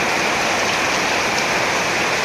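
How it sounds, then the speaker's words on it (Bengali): Torrential rain pours over homes and washes the soil away, a loud, constant rushing hiss with a faint patter of drops, close and steady with no voices. "বৃষ্টি তুলনা ছাড়া বৃষ্টি নামছে।"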